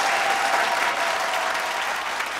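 An audience at a game show claps loudly and steadily in a dense, continuous burst of applause.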